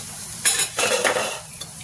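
Namkeen snack being tossed and stirred with chaat masala in a pot, a few short scraping, rattling bursts at close range with no one talking.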